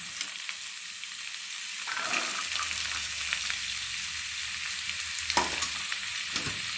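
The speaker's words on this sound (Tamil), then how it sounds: "பீன்ஸையும் அதோட வதக்கி விடுங்க" Beans and carrots sautéing with onion in a pan for fried rice, a steady broadband sizzle with occasional soft scrapes of stirring, no voices.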